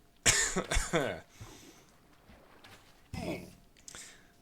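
Someone coughs hard several times close up, harsh bursts in two clusters separated by a quiet pause.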